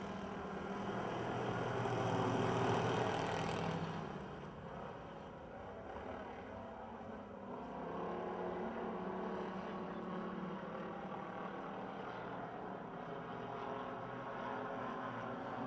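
Amateur stock cars in a heat race at Pennsylvania Motor Speedway near Pittsburgh, engines droning at a distance in a steady roar that swells loudly early on, then settles into a sustained mid-level rumble.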